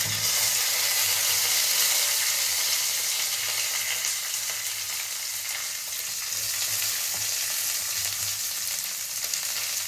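Curry leaves and tempering crackle and sizzle steadily in hot oil for upma, a dense, loud hiss close up that keeps going without a break.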